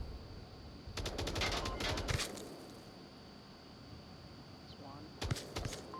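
Grenade blasts and a flashbang go off in the VR shooter Onward during a competitive tournament match, sharp bursts clustered near the start and end, mixed with game noise and commentary talk.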